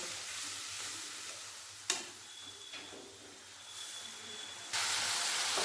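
Soaked spice paste with melted chopped tomato fries and is stirred in a pan for a bottle gourd curry, a steady close sizzle broken by a sharp scrape near two seconds and a louder, brighter hiss toward the end.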